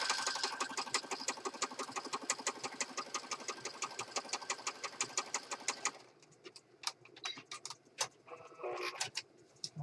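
A sewing machine stitching a teal autumn junk journal runs in a fast, steady rhythmic chatter for several seconds, then stops, leaving scattered handling taps and rustles.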